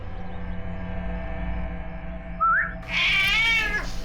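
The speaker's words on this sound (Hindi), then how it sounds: "ये है वो बिल्ली" A cat meows on a crime-drama set, first a short rising meow and then a longer, louder drawn-out wail, heard alone over a steady low background hum.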